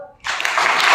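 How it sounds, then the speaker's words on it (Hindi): Applause breaks out from a school audience for a contestant on a KBC-style quiz show, rising suddenly after a brief quiet and holding as steady, dense clapping to the end. "ताली बजाओ एक बार।"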